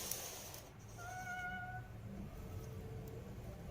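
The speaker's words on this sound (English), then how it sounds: "they once again heard the sound of a cat" A cat gives one drawn-out meow with a clear tonal cry, heard faintly against steady background noise.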